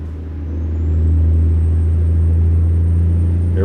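In American Truck Simulator, trucks and a bus sit idling in backed-up traffic: a loud, steady diesel rumble swells slightly, with a thin high whine rising and then holding above the drone.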